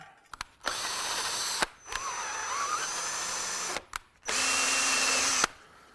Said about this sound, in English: I wouldn't normally recommend to just go putting a tap in a drill